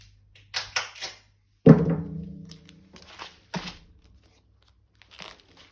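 A few short crinkly rips and crackles, then one louder tearing pull of construction adhesive tape off a roll with a ringing twang, followed by softer rustles.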